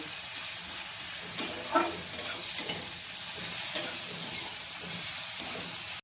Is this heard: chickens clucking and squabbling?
no